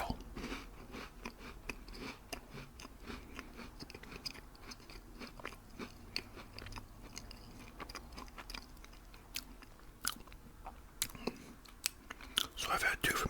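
Close-miked chewing of crispy, chewy, crunchy packaged cookies, with crisp crunches and bites repeating throughout and soft breathy sounds between them.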